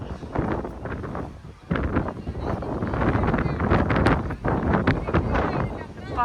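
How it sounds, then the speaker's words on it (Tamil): Strong wind buffets the microphone on Kanyakumari's glass bridge by the sea, a loud rumbling gusty roar that rises and falls throughout while people talk over it. "என்னை பின்னாடி பக்கமா தள்ளுது காத்து."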